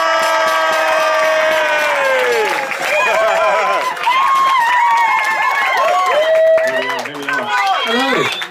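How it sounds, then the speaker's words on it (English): Wedding guests greet the best men with loud, close whoops, shouts and cheering voices in a reception hall, over a wash of crowd noise and clapping. "Huge round of applause for Will and Mikey B."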